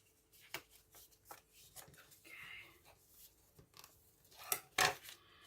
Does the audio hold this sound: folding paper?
yes